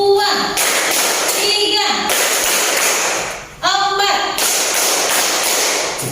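An Indonesian classroom of children claps hands together in counted bursts, loud and close, with short pauses between rounds while a teacher's voice counts along.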